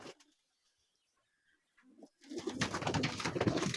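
Pigeons of several breeds in a breeding loft give soft throaty coos and rustling calls that swell into a steady low murmur after a brief near-silent pause.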